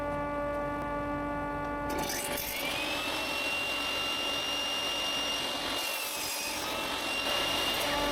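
A saw cuts through a spruce plank in a woodworking shop, a steady rasping that starts after about two seconds and runs continuously over a constant electrical hum.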